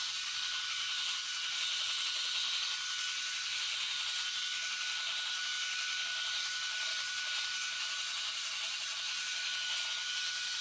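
A Bald Eagle Smart electric head shaver runs steadily through a head shave, giving an even, fairly quiet high whir with a faint constant tone and no talking.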